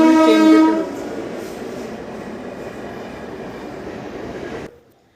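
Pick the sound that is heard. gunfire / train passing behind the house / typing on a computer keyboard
train passing behind the house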